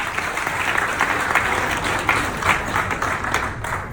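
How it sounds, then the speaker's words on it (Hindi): An audience claps loudly at a lively Hindi-speaking gathering. The applause is dense and sustained, with a few sharper claps standing out, and fills the whole moment without speech. "फिर एक बार जोर ताली के लिए,"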